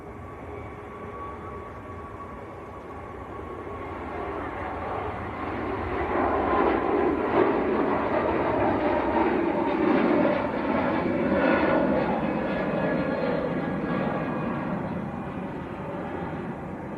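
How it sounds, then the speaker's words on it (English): A Turkish Airlines Airbus A321neo departs Manchester Airport for Istanbul, its jet engines a broad, steady roar heard from a distance that swells gradually toward the middle and stays sustained throughout with no talk. "There goes Turkish to Istanbul,"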